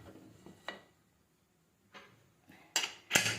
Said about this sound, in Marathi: आता याला कुकरचं झाकण करून घेऊ